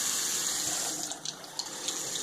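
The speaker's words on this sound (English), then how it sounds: "a little bit of water in one of your glasses" Water runs steadily from a tap into a glass, with a hissing stream and small splashes close by.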